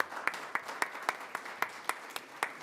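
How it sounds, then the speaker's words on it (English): A round of applause rises in a city council chamber, a modest group clapping steadily with sharp individual claps standing out, fairly quiet and without talk. "We want to give you a round of applause."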